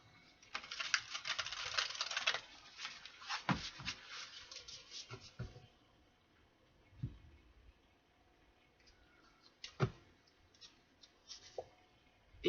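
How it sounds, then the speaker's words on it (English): Tarot cards being shuffled by hand, crisp riffling and flicking bursts, a dense run early on and then scattered light taps and snaps, close and fairly quiet. "Let's get one more shuffle."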